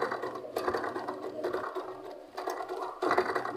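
After its timing has been fixed, a sewing machine stitches in short bursts with brief pauses between them, each burst a close, fast mechanical whirr.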